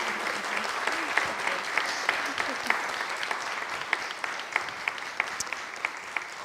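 Warm round of audience applause at a service, a dense even patter of many hands with sharper individual claps, sustained throughout and fairly close.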